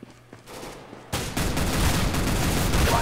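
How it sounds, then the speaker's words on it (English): Tech 9 pistol fire in CS:GO, a loud burst of rapid shots that starts abruptly after a quiet opening and continues densely to the end, with no talk. "One shot with the Tech 9."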